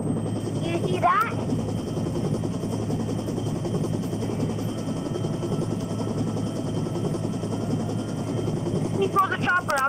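A helicopter in the virtual-reality shooter game Onward, heard as a steady rotor drone throughout with a few short bursts of other game noises.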